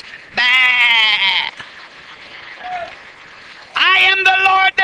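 A preacher imitates a sheep's bleat with two loud, drawn-out nasal bahs separated by a short quiet gap.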